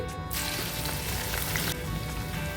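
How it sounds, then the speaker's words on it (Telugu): Chopped onions deep-fry in hot oil for chicken dum biryani, giving a dense, continuous sizzle that stays loud and close throughout with no voices. "చిన్న ముక్కలుగా కట్ చేసుకున్న ఉల్లిపాయలను ఆయిల్లో వేసుకొని డీప్ ఫ్రై చేసుకోవాలి"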